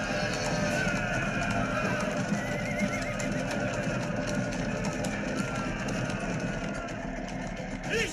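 A horse whinnies amid a busy, noisy outdoor scene with rumbling background and voices, the neigh moderately loud against constant din.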